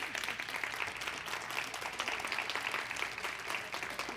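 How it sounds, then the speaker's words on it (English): An audience at a conference talk on building impactful boards applauds, sustained and even clapping from a crowd, moderately loud throughout with no voice on top. "give Kristina a very Well-deserved round of applause"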